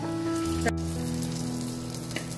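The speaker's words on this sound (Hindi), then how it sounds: "हम ये सारा तड़का कड़ी के लगा देंगे" Hot tadka tempering poured into kadhi, giving a steady broadband sizzle that holds evenly throughout, close and moderately loud, with no talking.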